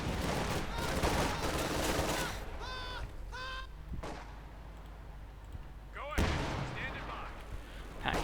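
A Pak 43 anti-tank gun firing in a Company of Heroes 2 battle, with loud blasts and rumbling explosions over a constant dense din of combat, plus a few whistling sounds.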